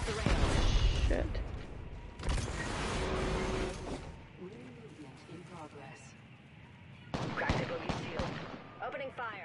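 Gunfire crackles in loud bursts during a battle royale video game fight, with heavy volleys at the start and again near the end and quieter game sounds between them.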